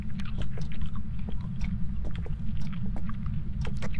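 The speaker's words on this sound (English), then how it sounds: "Yeah, it's probably actually just me chewing gum." Someone chews gum close to the microphone, producing soft, irregular wet clicks and smacks over a constant low hum, repeating steadily throughout with no speech.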